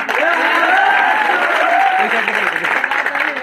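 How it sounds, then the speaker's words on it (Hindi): Audience in a hall claps together on request, a dense, steady wash of applause filling the whole moment; a voice is faintly audible underneath. "तालियां बजा लो, उत्साह फिर से बढ़ जाए"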